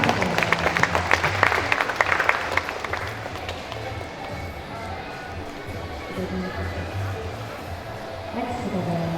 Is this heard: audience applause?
yes